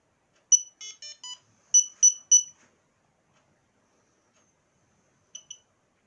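A battery-powered search beacon switching on gives a quick series of sharp electronic beeps and chirps, then silence, then two short beeps near the end, all clear and close in a quiet room.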